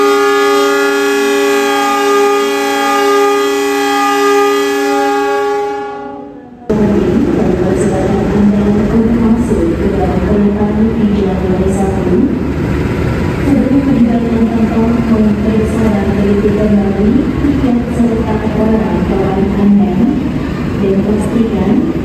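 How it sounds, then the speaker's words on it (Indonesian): A long, loud steady horn blast, then the rumbling roar of the Bima passenger train pulling away from an Indonesian station, with squealing and clanking over the continuous noise. "kereta api Bima persiapan berangkat"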